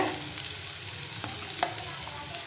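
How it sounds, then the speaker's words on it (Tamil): Onions sautéing in a pan for chilli prawn, a continuous close sizzle and crackle with occasional stirring scrapes, heard alone. "வெங்காயம் போட்டு நல்லா வதக்கி எடுத்துக்கலாம்"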